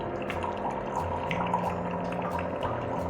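A thin stream of water from an RO water purifier tap runs steadily and continuously, close and moderately loud, with light dripping and splashing mixed in under the steady flow.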